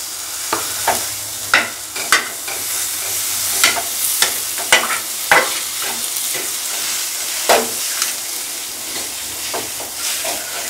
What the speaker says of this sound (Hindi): तो आलू को मैंने बॉईल कर रखा था, तो मैं 1 आलू को तो मैं इसी में ऐड कर रही हूँ।